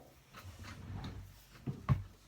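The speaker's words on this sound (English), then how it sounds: "let me grab one of those out of my drawer of cardstock" A drawer of cardstock slides open in a crafting room, a quiet soft scrape followed by a couple of faint knocks, alone without talk.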